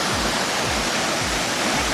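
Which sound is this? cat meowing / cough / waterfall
waterfall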